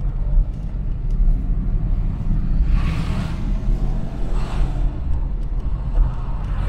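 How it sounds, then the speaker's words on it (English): Renault 9 car driving with a slipping clutch, a steady low engine and road rumble from inside the cabin, with two brief whooshing surges partway through. "we've got tremendous clutch slip"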